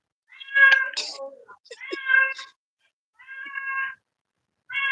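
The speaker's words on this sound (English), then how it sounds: "that cat's crazy" A cat meows repeatedly indoors, four loud, close, drawn-out calls separated by short pauses, with no talking.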